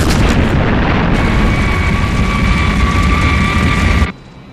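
Missiles fired at an aircraft in the Thunderbirds puppet series set in New York City, with loud explosive blasts over a continuous roaring rush that stays dense and heavy for about four seconds before cutting off abruptly to a quiet hum.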